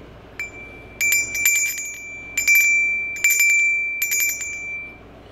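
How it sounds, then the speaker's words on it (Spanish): A small Criterion bell from an eight-piece bell set is rung in several bright, metallic bursts of rapid jingling with a clear sustained ring between strikes, close and alone. "Criterion Bell."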